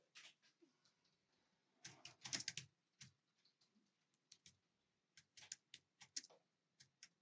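Typing on a computer keyboard in an Adobe InDesign lesson, with bursts of quick, light key clicks separated by short pauses, faint and close, with no voices.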